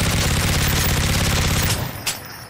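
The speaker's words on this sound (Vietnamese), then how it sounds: "Bây giờ mình sẽ sử dụng súng này mình triệt hạ mấy bọn săn hét khác đây." Rapid automatic gunfire from a gun in a Siren Head video game rattles out in a dense, continuous burst and then stops abruptly, followed by a single sharp click or thud.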